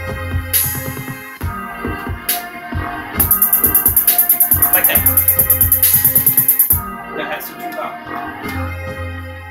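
A hip-hop beat built in FL Studio, its hi-hats mixed far too loud: a dense, even run of sharp ticking hats dominates the middle of the loop over a booming bass and melodic layers, with no one talking.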